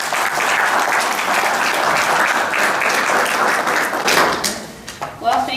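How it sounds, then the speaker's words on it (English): A lecture audience at a Historical Society talk on early Barcelona Harbor bursts into sustained, dense applause to welcome the speaker, steady and loud for several seconds before tapering into scattered claps. "a round of applause for Michelle"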